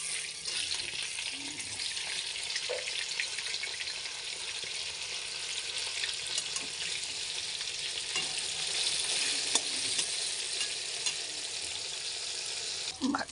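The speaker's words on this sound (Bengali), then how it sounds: "মাছগুলো ভাজা হয়ে গেছে," Pabda fish sizzling in a pan of oil, a continuous close crackling hiss with scattered pops and faint scraping of a turner, steady and unbroken, without talking.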